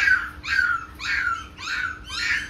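A dog gives four short, whiny yelps in an even rhythm, close and fairly loud, with no talking.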